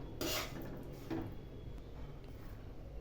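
A spoon scrapes twice against a pan while jaggery and roasted chickpeas are stirred for chikki, two short gritty strokes near the start over a faint steady background hum.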